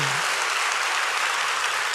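A congregation at a Friday night worship service in a church claps together in dense, sustained applause that fills the room loudly and evenly from start to end.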